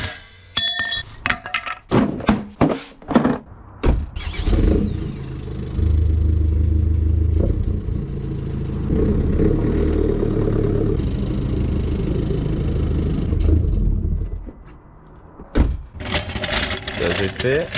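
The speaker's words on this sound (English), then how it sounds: "So yeah, let me start the car." A Ford Focus engine cranks and catches, then idles steadily for about ten seconds before cutting off, framed by clicks, clunks and a voice before and after.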